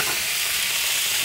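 Ingredients hit a hot pan for spaghetti marinara and sizzle loudly, a steady, close, hissing fry that holds evenly throughout with no pauses.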